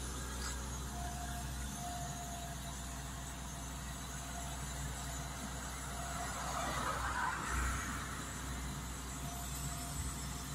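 Ford F-450 transit bus sitting parked with its motor running, a low steady idle hum at a distance, faint and continuous with a slight swell partway through.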